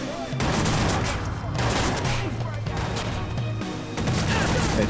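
Dense, continuous gunfire in the video game Watch_Dogs during a firefight, with loud overlapping shots and impacts filling the whole stretch.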